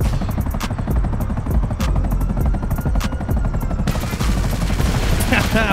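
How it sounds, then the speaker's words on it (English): Helicopter attack in an online shooter game, a loud, continuous rotor drone mixed with rapid bursts of machine-gun fire and explosions, close and dense throughout. "Now I'm gonna destroy these kids with a helicopter."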